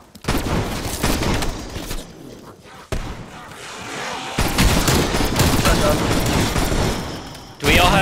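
Dense, loud gunfire in Call of Duty Black Ops Cold War as players shoot at a bear, continuous automatic bursts with booming impacts, players' voices talking over the shooting.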